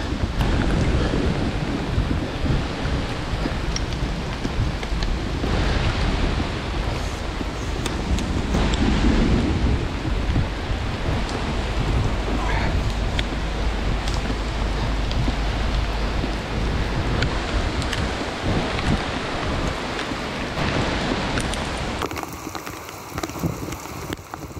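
Steady rain falls outdoors on a fishing trip, making a continuous broadband hiss mixed with gusty wind buffeting the microphone that lasts the whole stretch, with no talking.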